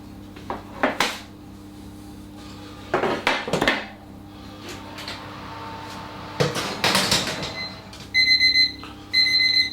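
A kitchen timer beeps in repeated bursts near the end, after clattering of dishes and pans while oatmeal raisin cookies bake in the oven.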